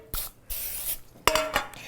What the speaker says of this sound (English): I'm going to just sort of spray the edges here